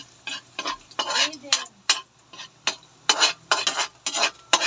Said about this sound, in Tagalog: Bawang, hahaluin po. Pag dumilaw na po yung bawang, saka ilagay yung sibuyas.